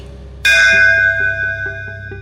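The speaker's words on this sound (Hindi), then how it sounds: "रस्सी से बंधी वही पुरानी घंटी मुसलसल बज रही थी।" A single loud strike of an old rope-hung bell rings out at midnight and slowly fades with a long metallic hum, with faint clock ticking continuing underneath.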